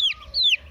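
A nervous chick peeps twice in quick succession, high and descending, close and clear with a short gap between the calls.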